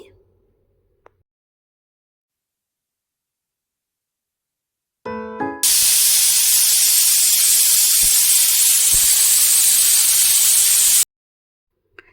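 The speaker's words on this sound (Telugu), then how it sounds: "మూత పెట్టి 3 విజిల్స్ రానివ్వాలి" A sharp burst of pressure cooker whistling while cooking vegetables gives way to a loud, steady hiss of escaping steam lasting several seconds, then stopping abruptly.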